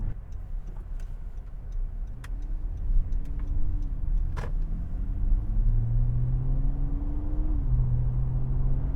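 A car with a 3.5-liter V6 cruises in normal mode, heard from inside as a low, steady engine rumble whose pitch climbs and settles with shifts, with occasional ticking clicks from the cabin.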